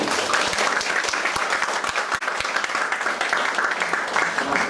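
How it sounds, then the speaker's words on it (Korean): Audience applause at a book concert, a dense, steady wash of many hands clapping that holds at a constant loudness throughout, with a brief dip near the middle. "박수 한번 드리겠습니다."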